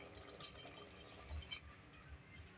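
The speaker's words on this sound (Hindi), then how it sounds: "इसमें पानी डालेंगे" Water poured from a glass into browned beef masala in a pan for arvi gosht, a soft continuous liquid splash and sizzle heard close and fairly faint, with no talking.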